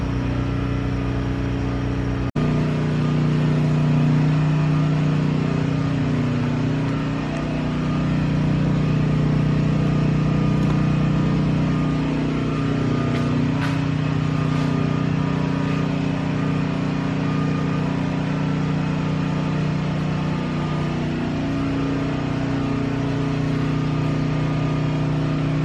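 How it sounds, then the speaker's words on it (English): A portable generator engine running steadily, a constant close humming drone with a strong low tone and little variation, alone without talking. "I hate having to use a darn generator"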